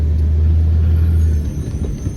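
A heavy truck descends a steep mountain road in low gear, its engine braking as a loud, steady low rumble with a softer, rougher tail near the end.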